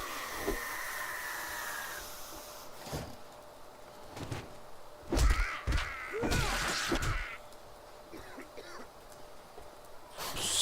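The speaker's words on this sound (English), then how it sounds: "That's a bird." A bird caws in the survival game 7 Days to Die, a few harsh calls scattered over ambient game noise with clunks and a hiss-like rush midway; fairly faint and without speech.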